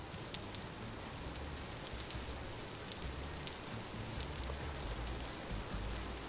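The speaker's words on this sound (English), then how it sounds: "It's still raining." Steady rain falls in the video game Vintage Story, a soft, even patter of drops with faint scattered ticks, continuing alone without voices.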